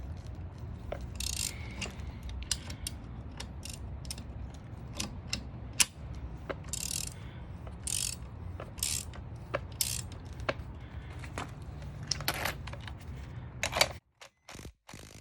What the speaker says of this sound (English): The only reason why I'm using ratcheting on this side is you can't put one of these in here.